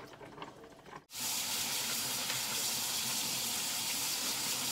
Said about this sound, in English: I'm just going to rinse these around real good.